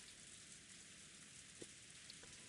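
Rain effect from the visual novel Umineko: a steady, soft hiss of rainfall with a couple of brief drop-like ticks standing out, quiet and continuous throughout.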